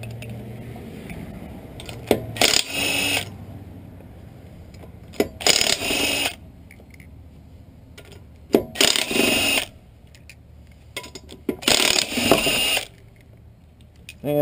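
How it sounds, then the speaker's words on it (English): An electric impact wrench with a 21mm socket zips lug nuts off the wheel of a 1999 Nissan Altima, giving four short, loud rattling bursts spaced a couple of seconds apart with quiet pauses between. "Using my trusty electric impact."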